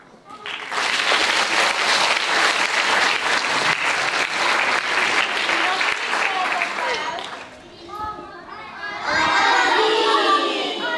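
Lively audience applause at a music school instrument demonstration concert, dense sustained clapping for about seven seconds that dips briefly, then returns with cheering and children's shouts.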